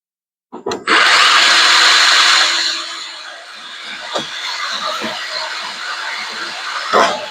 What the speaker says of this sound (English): So I just take the old handy dandy portable bandsaw and cut it